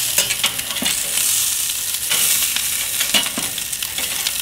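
Brat burgers sizzling on a grill, a steady close hiss with scattered crackles and pops and a few scraping stirs, with no talk.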